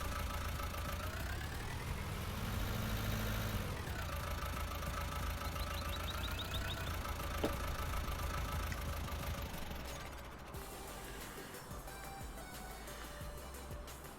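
Tractor engine idling in Farming Simulator 19, a steady low mechanical rumble that holds throughout, eases slightly toward the end, and runs alone without talk.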